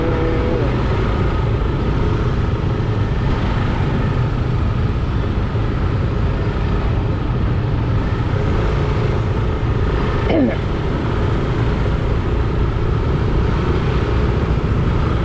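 Busy daytime road in Bali jammed with traffic, a continuous dense rumble of idling and creeping cars and motorbikes nearby, with a brief passing whine near the end.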